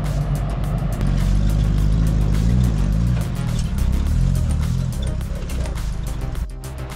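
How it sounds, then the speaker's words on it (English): A Mitsubishi Pajero 4x4 works along an off-road trail at a trail challenge, its engine droning loud and close, revving up and down in pitch through uneven stretches before easing off at the end. "And here comes the Mitsubishi Pajero, Frikkie, with his 4-spot."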